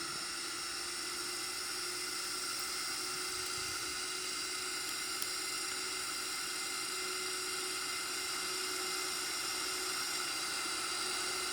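Boeing 737NGX jet engines in a flight simulator spool up for takeoff, giving a steady, dense roar with a high whine laid over it, unbroken and even in loudness throughout.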